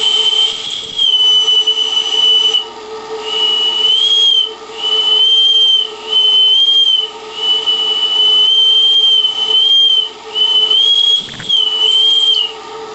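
Live steam model locomotive whistle at about 4 bar steam pressure, a shrill sustained tone blown in repeated long blasts over about thirteen seconds, with steady hissing and mechanical running noise underneath and no talking.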